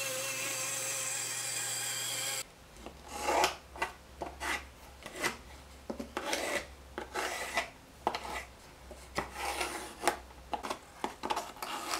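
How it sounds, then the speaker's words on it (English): Hand sanding takes the sharp edges off a wooden push stick: irregular rasping strokes, each a short rub, repeating close by after a brief motor hum fades out at the start. "So what I'm doing now is just take off the sharp edges just with hand sanding"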